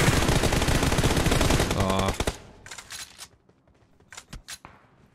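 Rapid automatic gunfire in the PUBG Mobile battle royale game, a dense sustained burst for about two seconds, then scattered single shots and short bursts further off.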